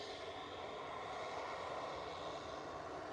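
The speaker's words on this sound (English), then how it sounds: "Oh, late touchdown again. Proper flaring that out" An aircraft lands at Liverpool Airport, producing a continuous broad, steady engine roar heard from a distance with no voices.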